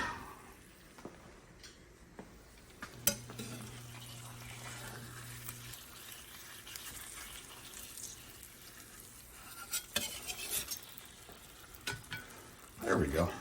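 Eggs frying in a stainless steel pan, a steady soft sizzle with occasional scraping as the pan is shaken and the eggs shifted, plus a few louder clatters near the end.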